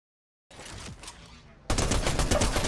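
Rapid gunfire on an aim training map in Fortnite, a burst of rattling shots that breaks off, then a louder, denser stream of continuous firing.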